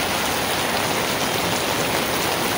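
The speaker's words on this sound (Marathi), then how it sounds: "पाऊस बघू शकता तुम्ही की जोरदार लागलेला आहे" Heavy monsoon rain pours down in Mumbai's Nana Chowk area, a dense, even hiss of falling water hitting surfaces, loud and unbroken with no voices.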